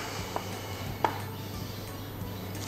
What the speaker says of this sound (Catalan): anem a tallar la ceba, petiteta